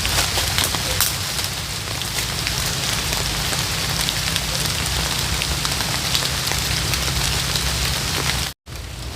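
Steady rain falling on an abandoned house, a dense continuous patter of drops with a constant hiss, loud and close, unbroken except for a split-second dropout near the end, no speech.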